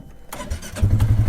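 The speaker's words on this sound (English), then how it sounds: "Fire up, get the 570 dual overhead cam engine, same that's in the Razor and the ATVs." A Polaris Ace 570's dual overhead cam engine, the same 570 used in Razor and ATV models, cranks briefly, then catches into a close, loud, throbbing idle with a steady low pulse. No one talks.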